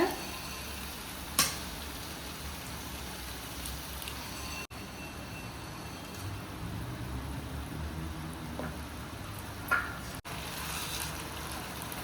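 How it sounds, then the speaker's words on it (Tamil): Two eggs poured over sautéed aromatics fry in a pan for a fish semiya street-food dish, giving a steady low sizzle with occasional spatula taps and scrapes, close and fairly quiet. "முட்டை கொஞ்சம் வேகட்டும்."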